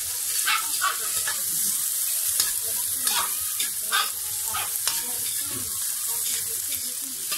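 Tomato being sautéed with ampalaya and kikiam, a bright sizzle with several sharp stirring scrapes and taps, alone and fairly loud.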